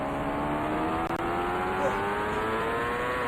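A simulated race car's engine in the Indycar Racing II game, on the 1990 CART Toronto Grand Prix street circuit, drones as a steady buzzing whine, with a brief stuttering dropout about a second in.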